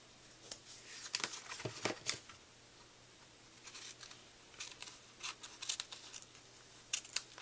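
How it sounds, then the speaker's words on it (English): Scissors trimming excess paper for a handmade greeting card, soft close snips and crisp paper rustles in irregular bursts over a faint steady hum. "I'm going to go ahead and cut this extra off"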